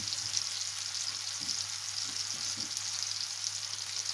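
Chopped medium onion fries in hot oil, a steady close sizzling hiss with a few light stirring clicks, alone without voices.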